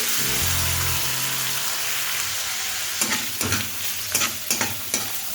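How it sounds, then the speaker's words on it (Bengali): Chopped coconut frying in hot ghee, a bright steady crackling sizzle, then several quick rhythmic spatula stirs toward the end, close and clear with no talking. "এবার ওই ঘিয়ের মধ্যে নারকেল কুচিগুলো দিয়ে দিচ্ছি"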